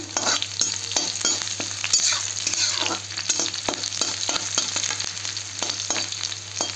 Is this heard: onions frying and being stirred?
yes